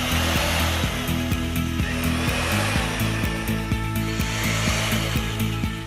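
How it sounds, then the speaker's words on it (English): A power drill with a small bit whines steadily close by, boring a line of holes into a wooden joist, its motor pitch wavering as the bit bites into wood, with brief rhythmic ticks throughout. "Use a small drill bit and make a line of 5 to 7 holes on your joist"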